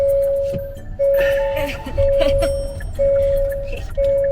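A car's seatbelt warning chime repeats as a loud, steady beep about once per second, each tone held nearly a second, while people talk in the background.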